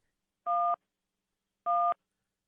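A phone dialing at home gives two clear, loud touch-tone beeps about a second apart, each a short steady dual tone against silence.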